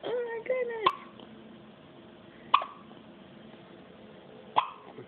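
Three sharp hiccups from a baby girl at roughly even spacing, each a brief loud catch, after a voice talks briefly at the start.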